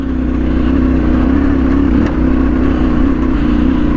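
An off-road vehicle's engine revs loudly and steadily in second gear as it climbs a rough track toward a rut, with the rear wheels spinning up under load, a continuous close mid-pitched drone with no talk.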